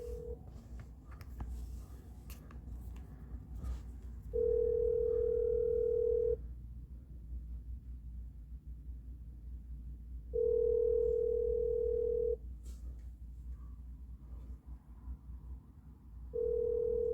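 Ringback tone on an outgoing phone call: steady two-second rings repeating every six seconds or so over a low background hum, three rings in all, with no voices.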